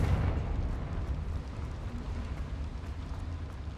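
A Bombarda explosion spell goes off in a video game, a loud sustained low rumbling blast that fades slowly over a few seconds.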